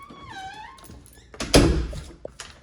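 A house door, its paint worn, is handled: a creaky squeak early, then a solid thunk as it shuts, with a faint tap afterward, close and clear with no talk.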